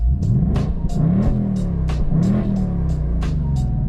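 A 2026 Mustang GT with its exhaust valve fully open revs repeatedly, loud close blips rising and falling in quick succession over a deep steady rumble.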